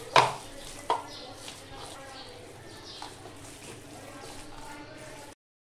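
Chopped spinach is mixed into a chicken mixture in a bowl, giving a couple of sharp knocks at the start, then soft, wet squelching and stirring that stops abruptly.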